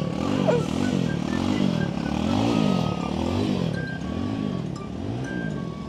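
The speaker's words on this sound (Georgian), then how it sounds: "რომ ნახოთ როგორი ტიპი არის მძიმე მოტოციკლეტი" A heavy motorcycle circles and zigzags on a training ground, its engine rising and falling in a steady repeating swell as it loops around, fairly close and loud, with no talking.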